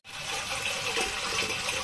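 Water runs steadily from a tap into drinking-water pots, a matka and a handa, producing a close, continuous rushing hiss that holds level for about two seconds.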